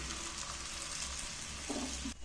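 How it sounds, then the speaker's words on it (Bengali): A paratha frying in a spoonful of oil in a pan makes a faint, steady sizzle that holds evenly throughout, with a slight bump near the end before a brief drop, and no voices. "একটা একটা করেই পরোটাটা ভাজবো।"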